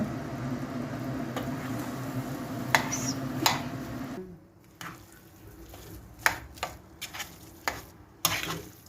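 Potatoes with salt being sautéed in a pan, a soft continuous sizzle with a few scraping stir clicks, quieter in the second half with sharper utensil taps against the pan.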